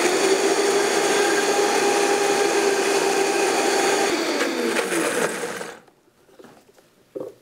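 A food processor purees basil pesto with grated cheese under the lid, a loud steady whirring motor that runs for about five and a half seconds, then cuts out, leaving faint clicks and a brief thump.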